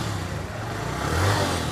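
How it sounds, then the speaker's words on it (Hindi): A used Suzuki GS150 motorcycle fires up on its self-starter, then settles into a steady mid-pitched engine hum that gains a little in strength near the end. The sound is close and has no talk over it. "हल्का सा पुश करने पे सेल्फ स्टार्ट ने किया फौरी काम"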